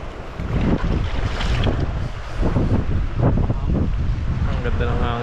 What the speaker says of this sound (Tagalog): Ang ganda ng hangin dito. Ang sarap.